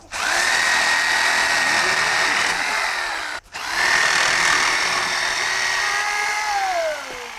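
A power tool cuts wood for a birdhouse with a loud, close, steady whine in two long passes, broken by a short stop midway, then winding down at the end.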